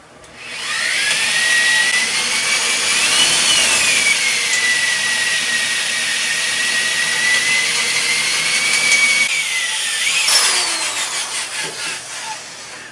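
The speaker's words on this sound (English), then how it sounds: "We'll drill that other side real quick." A loud, high-pitched whine of an electric drill boring through metal on a brush guard for a Kubota MX5400 tractor, running steadily for several seconds, its pitch shifting as it bites, then winding down.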